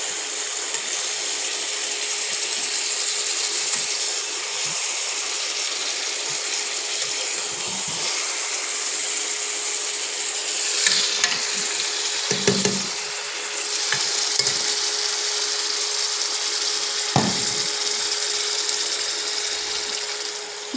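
Fried masala for a Bengali chicken curry hisses steadily in the pan as water goes in, with louder spitting bursts of sizzle partway through and quiet stirring scrapes, no voices.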